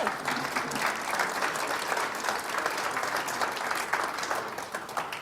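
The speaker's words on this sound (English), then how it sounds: "One more round of applause, please." Sustained, steady applause from a seated audience at a members' meeting, dense and even-level throughout without a break, with no speech rising above the clapping.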